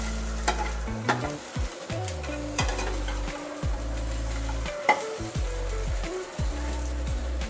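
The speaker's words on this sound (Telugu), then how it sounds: "కొద్దిగా ఇట్లా ఫ్రై చేసుకున్నాం. ఇది ఒక్క నిమిషం ఇలా కలిపేసుకున్నాం." Spicy chicken stirred and fried in a pan, a steady close sizzle with repeated scraping stirs of the spoon against the pan, no voices.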